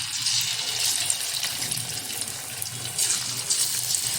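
Chicken pieces sizzle in hot oil in a large wok, a steady hissing, crackling fry that holds throughout at moderate loudness with no talk.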